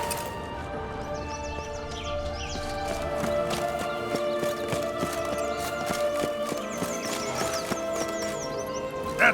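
Geralt's horse Roach in The Witcher 3 game: steady clip-clop of hooves trotting close by, under a continuous bed of tonal music, with a faint snort near the end.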